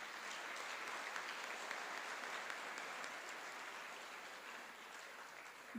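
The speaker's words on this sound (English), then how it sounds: "So a round of applause for Chase." Audience applause at a high school fine arts awards ceremony, a steady, dense wash of many hands clapping that holds evenly for nearly six seconds and tapers slightly toward the end.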